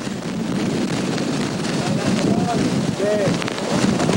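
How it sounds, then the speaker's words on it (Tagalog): Typhoon Nina lashes Naga at night with strong wind and heavy rain, making a dense roaring hiss and a gusty rumble on the microphone. The sound is steady and loud throughout, and faint voices may sit underneath it. "Nangangalit ang magkasabay ng malakas na hangin at ulan."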